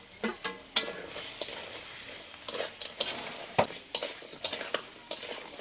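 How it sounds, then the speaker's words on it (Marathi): Marinated crab stirred and frying in a pan, with a steady sizzle broken by repeated scraping and clinking strokes of the spoon against the metal, close and fairly loud, with no talking. "हे सर्व हलवून त्याच्यामध्ये मॅग्नेट केलेला ठेकरा टाकूया"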